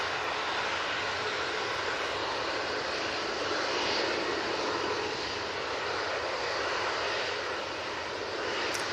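An Airbus A321neo airliner takes off with a loud, continuous broadband engine roar that swells gently and holds steady throughout, no voices.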